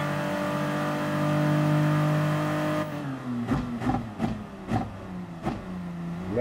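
A car in the Gran Turismo Sport racing game accelerates with a steady rising engine drone, then shifts through several quick gear changes with sharp pitch drops and climbs.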